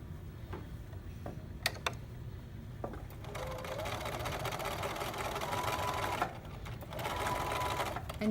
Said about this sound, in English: I do want to sew over my elastic 2 or 3 times